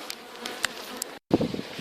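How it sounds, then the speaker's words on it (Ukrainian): Honey bees buzz around their hives at an apiary during autumn hive preparation, a steady dense drone of many insects close by, with individual bees whizzing past and a brief gap of silence midway. "Дуже бджолки розліталися. Інтенсивно літають."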